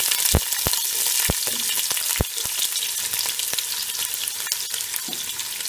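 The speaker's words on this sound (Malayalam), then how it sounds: "അതിലേക്ക് നമ്മൾ അരിഞ്ഞു വെച്ച സവാള ആഡ് ചെയ്ത് കൊടുക്കാം." Chopped onion hitting hot coconut oil for a Malabar mutton kuruma, a loud, steady sizzle with several sharp spatula clacks against the pan early on, then a continuous dense fry to the end.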